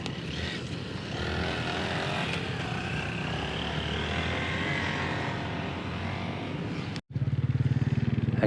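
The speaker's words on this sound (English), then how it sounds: "looks like there's an electric bike coming through now" Electric motorcycle passing close by on an off-road trail, a steady whining, rushing drone that holds for several seconds, then cuts off abruptly and gives way to a buzzing rattle.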